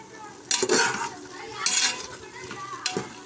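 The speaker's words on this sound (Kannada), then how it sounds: "ಕಟ್ ಮಾಡಿ ಇಟ್ಕೊಂಡಿದ್ದಂಥ ಕ್ಯಾಬೇಜ್ನ ಹಾಕ್ಕೊಳ್ತಾ ಇದ್ದೀನಿ ನಾನು. ಹಾಕ್ಕೊಂಡು ಒಮ್ಮೆ ಮಿಕ್ಸ್ ಮಾಡ್ಕೊಳ್ಳೋಣ." A utensil scrapes and clinks against a pan as chopped cabbage is stirred into fried masala for cabbage palav, three distinct close stirring strokes over a faint sizzle.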